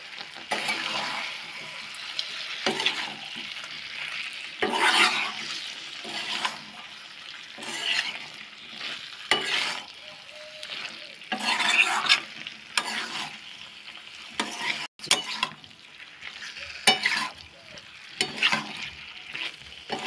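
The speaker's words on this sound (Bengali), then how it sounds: "পেঁয়াজ ক্যাপসিকামগুলো দিয়ে ভালো করে আবার একটু নাড়াচাড়া করে নেব" Onion, capsicum and bell pepper stirred and frying in a pan with baby corn and mushroom masala, a steady sizzle broken by repeated scraping strokes of a spoon, close and fairly loud, with no talking.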